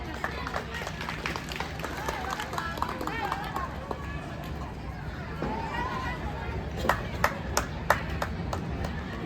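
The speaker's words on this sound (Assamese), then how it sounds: "সকলে যদি হাত চাপৰি দিয়ে" Scattered audience clapping at a school golden jubilee prize-giving ceremony, fairly faint and mixed with crowd chatter and a voice over a PA, with a few sharper claps near the end.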